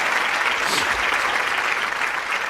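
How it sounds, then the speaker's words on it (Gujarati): Steady, loud audience applause fills a studio courtroom-style talk show, a dense wash of clapping from many hands that continues without pause. "આ વાત ઉપર તાળી નહીં વગાડ, હસો પણ નહીં"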